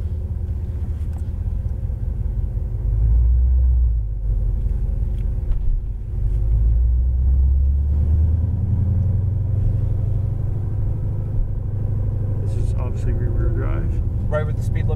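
A Chevrolet Corvette Z06 Stingray engine gives a low, rough rumble as the car creeps forward, steady and close with a brief swell, while people talk over it.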